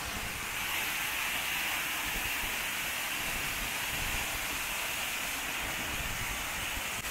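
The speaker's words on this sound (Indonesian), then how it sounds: "jadi itu adalah air terjun yang tertinggi tuh, yang di atas." A steady, broadband rush of falling water from the tallest cascade of the Peteri Pintu Layak waterfall, heard from a distance as a constant roar filling the scene, with no voices.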